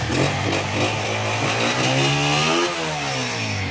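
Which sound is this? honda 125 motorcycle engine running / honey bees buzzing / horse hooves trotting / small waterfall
honda 125 motorcycle engine running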